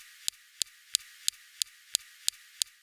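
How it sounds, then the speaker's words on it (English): Laser zaps from the SuperCam instrument on the Perseverance rover striking rocks on Mars: nine sharp, evenly spaced clicks about a third of a second apart, faint and crisp against near silence. "Next, we have the SuperCam laser zapping rocks."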